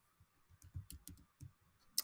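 Computer mouse and keyboard clicks in a quiet room: a quick, faint run of small taps with one sharper click at the end, no talk.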